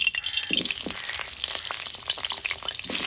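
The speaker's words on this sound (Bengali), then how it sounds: "রেডি করতে করতে আমি এদিকে আলুটা ভেজে নেব" Sliced potatoes frying in hot oil in a home kitchen, a steady close crackling sizzle with scattered pops and spatters running throughout, no voices.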